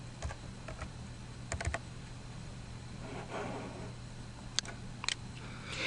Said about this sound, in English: Enter the sale amount in dollars and cents, and then click the button labeled Process.